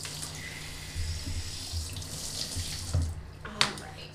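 A tap runs steadily into a sink while a small dog is rinsed at bath time, a close, continuous splashing stream with soft knocks and a brief sharp clatter near the end.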